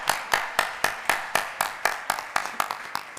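Sparse, slow clapping rings out in a conference room during a Spanish legal seminar, as the audience applauds the event organiser. About a dozen crisp, evenly spaced claps land steadily and fairly close, with no talk over them.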